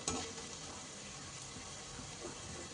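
Turmeric, chili powder and salt frying in a pan for poha upma, giving a steady, dense sizzle that stays fairly even and close throughout, with no talking.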